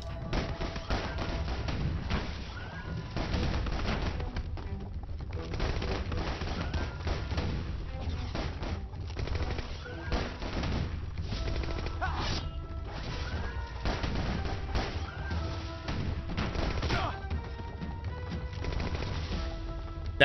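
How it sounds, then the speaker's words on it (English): Rapid punching attacks fired like a machine gun from a rabbit character's fists in the game Dusty Raging Fist, producing a constant stream of crashing, thwacking impacts layered over energetic background music. "Machine guns for fist"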